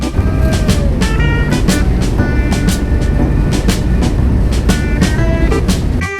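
A shuttle train on the Rajbari–Kushtia line at Charaikol station rumbles loudly and continuously, with rhythmic clanking and clacking from the wheels and cars throughout, close by and without voices.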